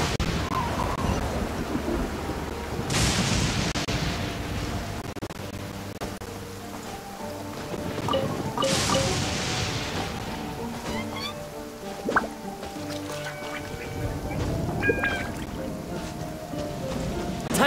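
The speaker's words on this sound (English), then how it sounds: "Compared to the storms I've encountered out at sea, this is really quite tame." Thunderstorm in the video game Genshin Impact: steady rain and dripping water with two heavy thunder rumbles rolling in, plus faint clanks and game effects in the background.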